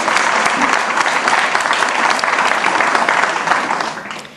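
Audience applause for 10-year hospital volunteers at a regional healthcare awards event, a steady dense clapping from a full room that holds evenly and tapers off at the end.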